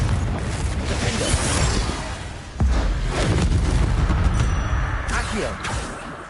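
Blasting fire spell explosions in Hogwarts Legacy combat, with a sharp booming impact midway amid a thick rumble of battle effects and further bursts later, under intermittent speech.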